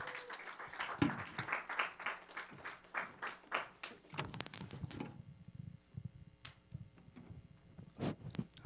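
Scattered applause at a church youth-group gathering as an elder is called forward, individual claps sounding close and uneven, thinning into sparse, irregular claps and small noises.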